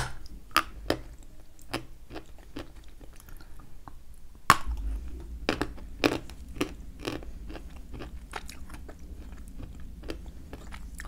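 Hard, dry bites and crunches on a rock-hard Kyrgyz sample that smells of nuts and concrete dust, a string of sharp close cracks and crumbles spread irregularly across a quiet background, no talking.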